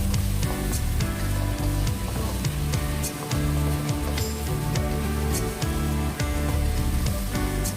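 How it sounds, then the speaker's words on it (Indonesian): Seasoned meat stir-frying in a hot pan for a Hong Kong-style home dish, a steady loud sizzle with spatters and a few scraping clinks. "Tumis 1-2 menitnya, ini cepat mateng."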